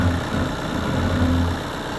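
A car engine idling while it warms up during home maintenance, a steady close rumble with even vibration throughout and no voices.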